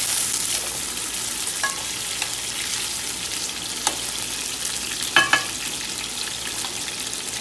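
Chicken frying in already-hot oil in a karahi, a continuous broad sizzle with occasional light clinks and scrapes of stirring, one brief louder clatter near the end, no talking.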